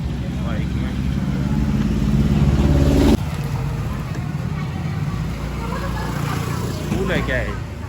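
Motorbikes carrying pilgrims from the Brahma Temple in Pushkar pass along a street, their engines droning loud and close, then dropping after about three seconds into a lower, steadier rumble of traffic.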